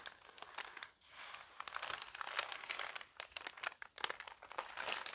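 Sheets of paper handled up close and crinkled, giving soft, irregular crackling bursts and rustles with brief pauses between them.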